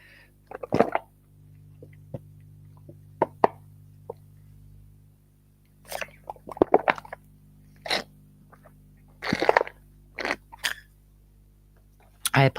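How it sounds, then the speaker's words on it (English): Several short wet slurps and sucks from a straw, close to the microphone, come in bursts with quiet pauses between them, over a low steady hum. "I apologise for that noise. It was a carton drink."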